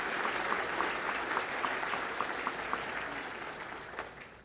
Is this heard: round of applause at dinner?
yes